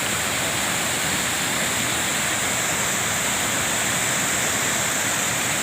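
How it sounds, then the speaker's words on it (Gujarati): Water pours steadily from the waterfall at Tapkeshwar Mahadev temple on Osam Hill into a brimming pond, a continuous broadband rush with no breaks and no voices. "એ ધોધમાંથી જે પ્રવાહ પાણીનો આવે છે એ પાણીના પ્રવાહથી આ તળાવ આખું અત્યારે ભરાઈ ગયું છે"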